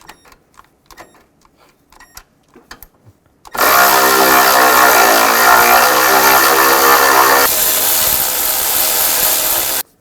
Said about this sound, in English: And tighten those down.